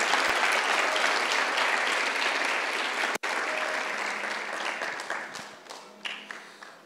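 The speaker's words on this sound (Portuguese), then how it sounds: "Pode aplaudir o nome do Senhor Jesus por isso?" A church congregation applauds in a dense, loud wave of clapping that holds steady, then thins out into scattered individual claps as it fades.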